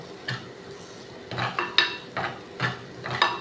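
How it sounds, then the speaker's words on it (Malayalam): Coriander powder, tomato and onion get stirred in oil, with a spoon scraping and clinking against the pan in repeated uneven strokes over a soft sizzle. "ഇതങ്ങനെ ഇളക്കിക്കൊണ്ടിരിക്കുക."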